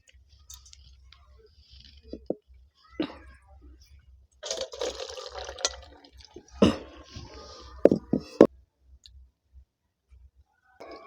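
Boiled soya chunks being drained of their water in a home kitchen, with splashy bursts of pouring and dripping and a few sharp clicks against a container, close by and moderately loud between quiet gaps.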